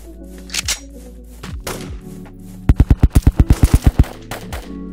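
SMG gunfire in the Roblox game Trident Survival V2: a few scattered thudding shots and then a rapid automatic burst of about a dozen loud, evenly spaced rounds, close and punchy.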